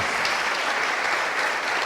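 A church congregation breaks into warm applause, a dense steady wash of many hands clapping at close range with no voices standing out.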